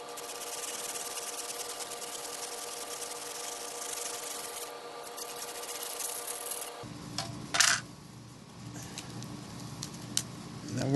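A saw rasps through a block of ice in a steady grinding stroke, close and moderate, before the cutting changes and a brief loud crack or scrape breaks through.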